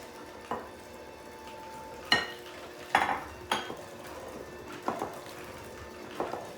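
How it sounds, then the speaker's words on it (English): Spatula scraping the sides and bottom of a mixing bowl holding rich chocolate cake batter with coffee, a series of short, separate scrapes and clinks at an irregular pace, close by and fairly quiet. "I will scrape the sides and the bottom"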